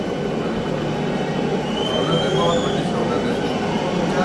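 A train passing during running trials on the new Kashmir to Jammu line near Sangaldan, a steady broadband rumble with a faint squeal, continuous and fairly loud throughout.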